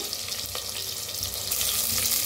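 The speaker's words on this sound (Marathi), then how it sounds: "तर तेल चांगलं गरम झालेलं आहे, त्याच्यात टाकूया जिरं, त्याच्यात टाकूया कांदा, जिरं चांगलं भाजलेलं आहे" Cumin seeds and onion frying in hot oil in a home kitchen, a steady close sizzle that swells louder about halfway through as more goes in, with no talking.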